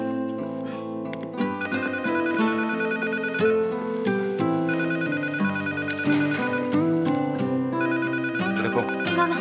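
A telephone plays a bright, melodic ringtone that repeats steadily and loudly for several seconds in a scene from the French drama series Un Dos Tres, heard alone with no voices.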